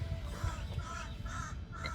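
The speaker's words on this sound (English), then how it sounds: "it's that time of year where the crows are out" Crows caw repeatedly outside a house, several harsh calls in an irregular rhythm at moderate distance over a steady low background rumble.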